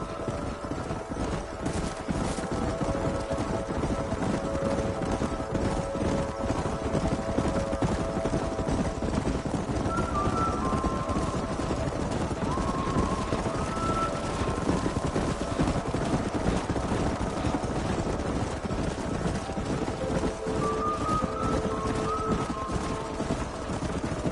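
Horses gallop in the video game Red Dead Redemption, a steady, loud clip-clop of hooves running continuously beneath a sustained musical score with no talking.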